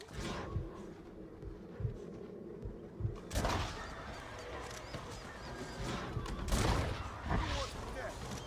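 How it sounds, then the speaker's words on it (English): Gunfire in the Red Dead Redemption video game, a few sharp shots and blasts at irregular intervals over ambient game noise. "I want to shoot a bad guy with this thing."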